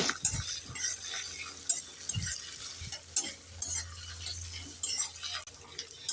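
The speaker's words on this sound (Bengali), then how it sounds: "এবার আমি নেড়ে চেড়ে পেঁয়াজটাকে একটু লাল করে ভেজে নেব" Chopped onions fry in a pan with green chili and panch phoron, stirred intermittently, giving soft scraping knocks and clacks over a faint continuous sizzle, close by and fairly quiet.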